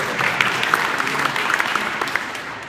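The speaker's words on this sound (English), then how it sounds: "Big cheer for Neil." An audience at a student speech event breaks into loud, sustained applause with scattered sharp claps and a few whoops standing out, fairly close and fading slightly at the end.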